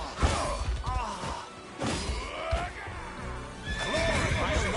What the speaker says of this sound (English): My steed demands rest.